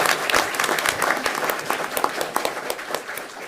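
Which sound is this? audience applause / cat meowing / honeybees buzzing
audience applause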